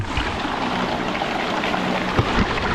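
Loud, continuous rush of water splashing and churning around a moving small electric boat, with no one talking.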